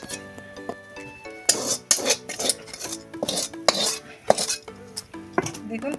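A metal spoon scrapes and clinks against a pan while a potato and paneer filling is stirred. The strokes are loud and irregular, separated by short pauses, and a faint sizzle runs underneath with no talking.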